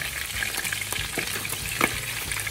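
Pork ribs browning in their own rendered fat give off a steady crackling sizzle, close and even, with light scraping of stirring now and then.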